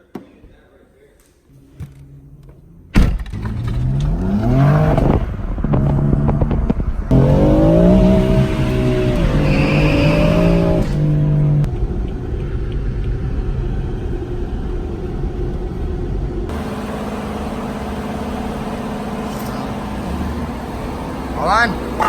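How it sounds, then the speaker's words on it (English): A BMW M4 rebuilt after a wreck is driven on a test run, its engine rumbling and revving through gear changes with rising and falling pitch, while people talk inside the car. "Now we're gonna take the car to get it aligned and then do some test drives."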